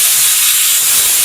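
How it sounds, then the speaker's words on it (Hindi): Pressure cooker cooking masoor dal in a home kitchen, releasing a loud, steady steam hiss that runs continuously without a break. "फिलहाल मैंने उधर कुकर में चढ़ाया हुआ है, क्या बोलते हैं उसे, मसूर दाल"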